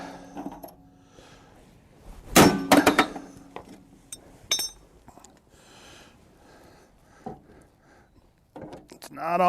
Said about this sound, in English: And I don't even have to go get a bigger hammer. I just have to swing it harder.